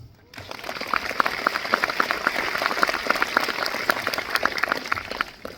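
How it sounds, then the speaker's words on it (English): Audience applause at a launch event for a premium chocolate, beginning abruptly after a brief silence and continuing as even, moderately loud clapping with sharper individual claps standing out. "first a warm round of applause"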